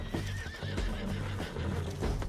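A horse in Red Dead Redemption 2 whinnies loudly with a wavering neigh, hooves clip-clopping steadily underneath throughout.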